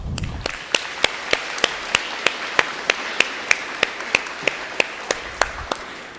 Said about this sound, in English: Let's all give a round of applause to those that have helped you achieve this milestone today.